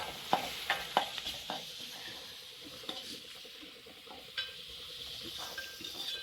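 Masala with ginger paste is stirred in a frying pan, giving a soft sizzle broken by a few sharp spoon scrapes and taps against the metal. The sounds are quiet and close, with no voices.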